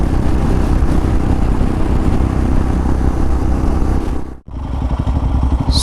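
Motorcycle ridden at night on the road from Hassan toward Sakleshpur, a loud continuous engine and wind roar close by, briefly dipping before resuming.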